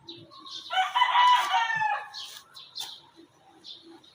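A backyard rooster gives one loud, near crow that rises and holds for about a second, followed by a few softer scattered clucks and rustles in a quiet setting.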